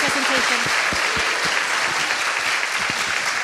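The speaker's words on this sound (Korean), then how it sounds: "큰 박수로 맞이해 주시기 바랍니다." Audience applause for a speaker at a happiness education forum, a dense clapping wash heard over a brief stretch, with a voice speaking through it in the opening half.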